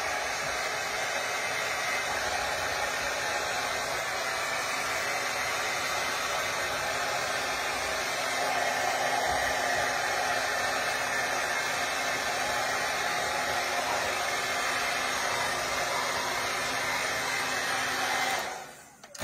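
A hair dryer blowing on a craft pumpkin ornament, giving a continuous loud, close whooshing roar that holds steady and then cuts off right at the end.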